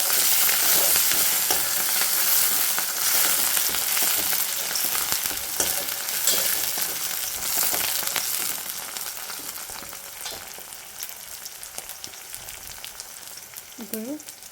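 Curry leaves and coriander frying in a pan with browned onions for egg masala curry, a loud, dense, continuous sizzle up close that gradually eases and softens toward the end.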